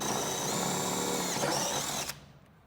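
A power drill bores pinch weld holes in the steel body of a 2007-or-later Mercedes Sprinter van, a steady high whine running for about two seconds and then cutting off abruptly.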